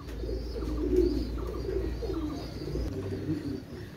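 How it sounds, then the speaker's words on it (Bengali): Pakistani White Golden pigeons, kept as tournament birds, coo in low, soft, repeated murmurs that roll steadily over a constant background hum. "অনেক ভালো মানের কবুতর, পাকিস্তানি হোয়াইট গোল্ডেন।"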